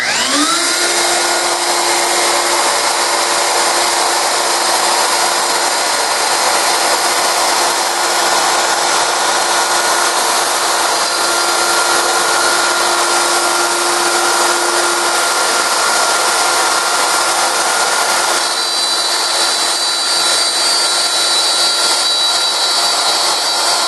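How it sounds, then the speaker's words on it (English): A wood router fitted with a guide collar follows a template around the corner of a wooden picture frame, giving a loud, steady high-pitched whine that runs without a break from start to finish. "I've got a collar on my router, and this will just follow the template."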